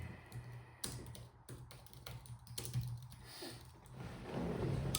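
A computer keyboard is typed on in quick, irregular bursts of soft clicks, close and fairly quiet, with a faint low hum beneath and no talking.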